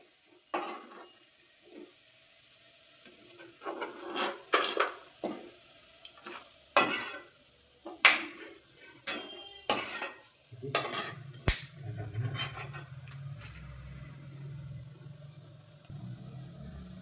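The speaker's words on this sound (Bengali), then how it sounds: "এবার এই মশলাগুলো দিয়ে দেবো, দিয়ে ভেজে দেবো" Onions fried light red in a pan for a mutton curry, with spices added: scattered stirring scrapes and clinks, then a steady low sizzle settling in toward the end, no talk.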